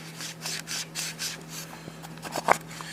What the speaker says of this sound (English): Make sure you rub the sides, twist it around, get that sticky junk out of there.